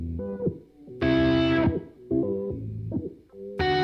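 Electric guitar run through a Thermae analog delay and harmonizer pedal on a custom setting, playing sustained chords and notes that shift in pitch, with a bright, heavily processed layer swelling up midway and returning at the end.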